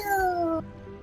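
A single short cat meow in the video game Escape Simulator. It is a clear, falling call that cuts off abruptly, followed by quiet background.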